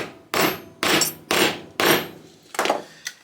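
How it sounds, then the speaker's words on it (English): Five sharp, loud hammer blows drive a metal T-nut into a hole in a folding mechanic's creeper during a rebuild, evenly spaced at first with a softer final tap, no talking. "And then we'll basically just hammer that in."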